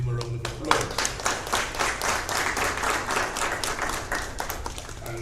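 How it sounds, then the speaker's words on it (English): An audience at a regional CXC awards ceremony bursts into a round of applause, dense overlapping claps sustained evenly for several seconds, fairly close and clear. "Give him a round of applause."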